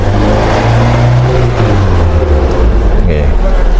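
A Suzuki R3 engine with its MAP sensor socket unplugged revs steadily and loudly, a continuous mid-pitched drone held for several seconds, with a voice briefly audible in the background.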